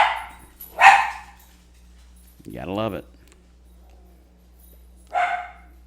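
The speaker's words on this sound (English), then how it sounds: "The dogs have to be heard." Dogs bark in short bursts a few times across the scene, moderately loud and spaced apart, with someone talking in between.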